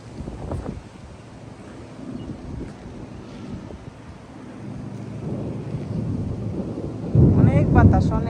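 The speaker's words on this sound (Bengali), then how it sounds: "অনেক বাতাস, অনেক।" Strong wind gusting outdoors near parked cars and motorcycles, a steady broadband roar with buffeting on the microphone that swells louder toward the end, with a brief voice early on.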